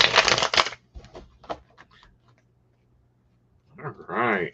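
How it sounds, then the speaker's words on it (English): A deck of tarot cards is shuffled up close in a loud, brisk burst, followed by scattered soft taps and clicks as the cards settle. After a quiet gap, a voice speaks briefly. "Let me take a shuffle."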